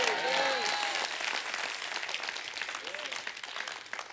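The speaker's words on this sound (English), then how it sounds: "Come on, somebody clap if you believe that." A church congregation breaks into broad applause and cheering, loud at first and then thinning out; a voice calls out over the clapping near the start and again briefly later.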